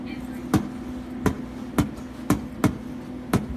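A human voice imitates a bass drum in beatbox style, making about seven punchy, close low thumps at a steady, slightly uneven pace with no words spoken.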